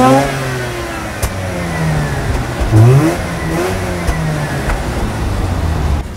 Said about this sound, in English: it has an amazing red line and it sounds beautiful when it fires up